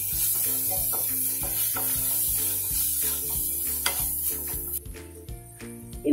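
Spices with ground pepper and turmeric being stirred in a pan for a chicken dish, a continuous close sizzle with repeated rhythmic scraping strokes and a soft clatter near the end.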